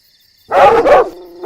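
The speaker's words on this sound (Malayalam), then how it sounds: "എന്നെ പട്ടി കടിക്കാൻ വരുന്നേ!" Two loud, close dog barks in quick succession, followed by a lower, drawn-out whining tone.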